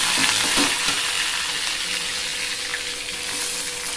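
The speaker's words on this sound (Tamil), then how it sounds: "வெங்காயம் தக்காளி நல்லா வதங்கணும்." Onion and tomato sauté in a hot pan with garlic, ginger and curry leaves, giving a constant close sizzle and frying hiss with a few faint stirring scrapes near the start, and no voices.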